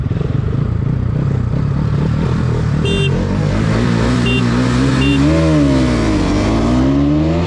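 Two 200cc street motorcycles, a KTM Duke 200 and a Bajaj Pulsar NS200, race each other on an empty road. Their engines rev loudly and up close, climbing and falling through the gears as they accelerate hard, with no talk.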